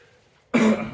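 A single short, rough cough bursts out after a moment of near silence, close and fairly loud.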